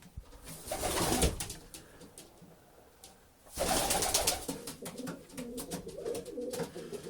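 An old, lame pigeon coos in low, throaty bursts at close range, with a quieter pause between the two loud stretches.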